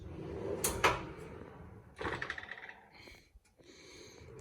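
A steel drawer on ball-bearing rails of a steel workbench slides open with a rolling rattle, and a moment later it slides shut with a thump, both close up.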